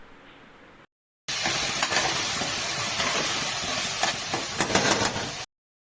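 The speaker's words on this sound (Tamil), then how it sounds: "அது கூடவே மஞ்சத்தூள் கொஞ்சம் சேர்த்து நல்லா வதக்கி விட்டுக்கலாம்" Vegetables sauté in a hot pan with salt and turmeric for veg kurma, a dense, close sizzling hiss that starts abruptly after a short silence and holds steady with a few stirring scrapes, then cuts off.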